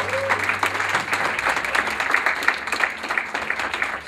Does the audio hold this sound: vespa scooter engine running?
no